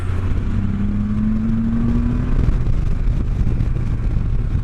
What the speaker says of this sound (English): I'm on the 2015 Can-Am Spyder F3 SM.